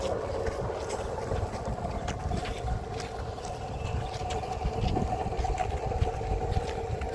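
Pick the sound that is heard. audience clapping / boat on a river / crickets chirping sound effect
boat on a river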